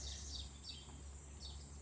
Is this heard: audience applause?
no